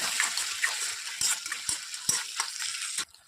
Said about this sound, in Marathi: आता त्यामध्ये मी थोडं पाणी टाकते.